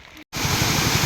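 Rushing milk-white river water in Valparai during monsoon season makes a loud, steady broadband roar that starts abruptly after a brief gap and continues without pause.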